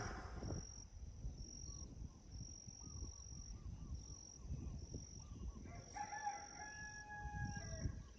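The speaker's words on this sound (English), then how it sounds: "Listen to them birds." Outdoor ambience with steady high bird calls and a rooster crowing partway through, over a low rumbling background.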